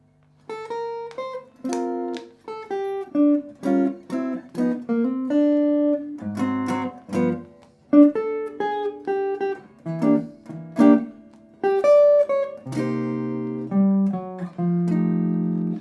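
A sequence of jazz chords from a standard played on a keyboard, each voicing struck and held in turn at a relaxed, steady pace with no talking.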